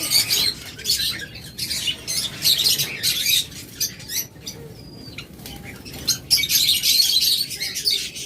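A crowd of caged pet birds, including lovebirds, budgerigars, Java sparrows, cockatiels and finches, kept for sale. They give off a dense, continuous chatter of high chirps, tweets and occasional squawks, fairly close, with no talking.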